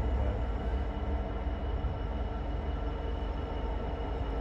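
A lightly loaded freight container train pulled by three Class 66 locomotives, one in Freightliner orange livery, rumbles past at Ipswich on the Great Eastern Main Line, a loud continuous low roar of wheels and wagons throughout.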